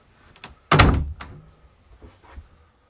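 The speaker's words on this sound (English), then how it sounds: "Mirror opens to give you your hanging locker." Mirror-fronted hanging locker door on a Fairline Targa 50 Open boat swings open with one solid thunk, followed by a few faint knocks and light rattles.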